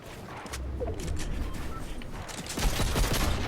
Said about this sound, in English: Somehow I shot my shotgun, I didn't even mean to do that.